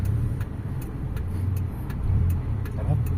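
A car engine with a retuned carburetor, after a hard-starting problem, runs in a steady low rumble with faint periodic ticking. No distinct cranking bursts stand out.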